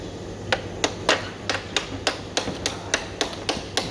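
A bolt being knocked out of a bent motorcycle steering head after an accident, a run of about a dozen sharp metallic taps in a fairly regular rhythm, close and clear over low background hum.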